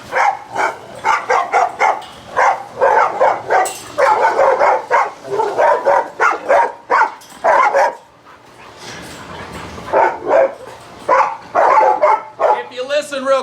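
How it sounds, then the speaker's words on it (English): Dogs bark repeatedly in quick, irregular bursts, fairly loud and fairly near, with a brief lull partway through before the barking resumes. "you can hear dogs barking"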